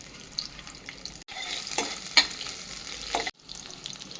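Onions with mustard seeds and cumin frying in about three spoons of oil on a stove, a close crackling sizzle broken by a few louder stirring scrapes and two brief silent gaps.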